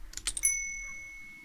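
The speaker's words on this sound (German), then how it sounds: "Würdest du bitte für mich die Kirchturmglocke läuten" A church tower bell in the Lost Ark video game gives a single bright chime after a few quick clicks, its clear ringing tone sustaining and slowly fading away.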